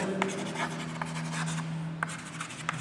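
Pen or chalk writing out hand-written notes during a mathematics lecture on sets, heard as steady scratchy strokes with a few sharper taps, close and moderately loud over a low hum, with no talking.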